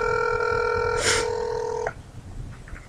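A cell phone rings with a steady, loud electronic tone for nearly two seconds, then cuts off abruptly, leaving faint room noise behind.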